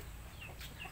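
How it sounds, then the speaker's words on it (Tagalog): Fighting cocks cluck faintly in the distance, a couple of brief calls over a steady rumble of outdoor background noise. "May mga manok dyan, guys, na pangtari yan"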